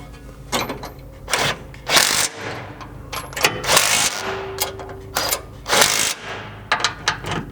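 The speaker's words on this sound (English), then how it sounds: "you can tighten up the bumper to these inner mounting brackets using a 5/8 socket" Bumper bolts on a Polaris Ranger are tightened to the mounting brackets with a 5/8 socket, producing bursts of rapid ratcheting clicks between brief pauses, with some rustling and metal handling.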